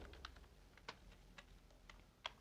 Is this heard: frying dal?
no